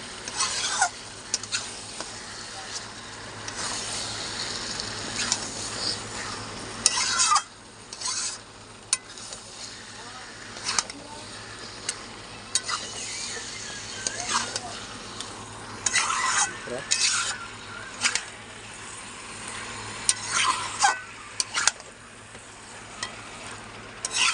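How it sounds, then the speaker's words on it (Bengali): Chicken pieces and spices are stirred and fried in a pan for Bengali chicken kosha, a steady close sizzle broken by frequent scraping stirs of the spoon, with no talking. "এবার ভালো করে আমি চিকেনের সাথে মশলাটাকে ভালো করে, চিকেন আর মশলা সব ভালো করে আমি কষে নেব।"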